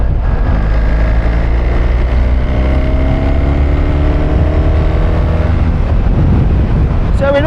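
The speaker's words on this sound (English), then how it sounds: "I'm going to let the revs drop a little bit before it changes gear, and then I'm going to get back on the throttle again" A 2024 BMW R1300 GS motorcycle with a 1300cc engine and automatic gearbox rides with loud, constant wind rush; the engine tone sweeps and falls as revs drop, then rises again under throttle.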